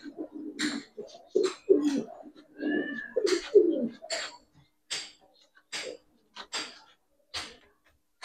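Giribaz and racer pigeons coo in short, soft, murmuring bursts close by, with a person talking intermittently over them.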